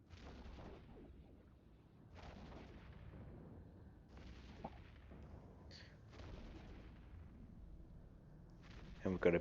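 Ship weapons fire in a hard encounter in the space game Eve Echoes, with muffled booming volleys repeating every couple of seconds under a low rumbling game soundscape.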